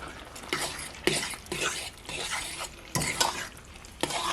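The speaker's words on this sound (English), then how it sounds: "And I'm just going to stir it around in the sauce." Pasta is stirred through a thick pumpkin eggnog sauce in a pot, giving repeated wet, squelching scrapes in a steady rhythm of about one stroke every half second, close and alone with no talk.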